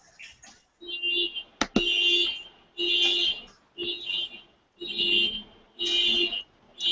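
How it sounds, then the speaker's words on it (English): Repeated electronic beeping in regular bursts, each about half a second, with a sharp click partway through; fairly faint and alone. "Sounds like someone's hearing some beeping going on"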